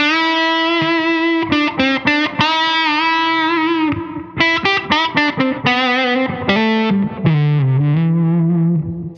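An electric guitar through a fuzz pedal, with a delay also running, plays a run of sustained and quickly picked notes, loud and thick with saturation, with no voices.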